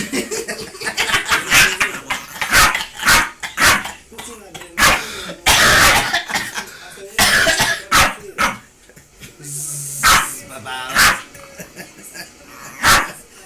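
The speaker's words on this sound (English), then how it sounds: "Stop it! Enough barking." Repeated sharp dog barks in bursts, loud and close, mixed with a person shouting over them.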